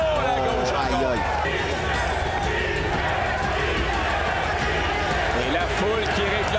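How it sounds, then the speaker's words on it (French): A boxing arena crowd roars steadily for its favourite fighter, a dense, continuous wall of shouting and cheering with a commentator talking over it. "Et la foule qui réclame un réveil de son favori."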